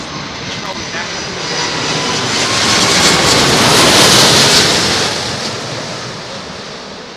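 An airliner lands at London Heathrow in high winds, and its reverse thrust builds into a loud, broad roar that swells to a peak and then slowly fades.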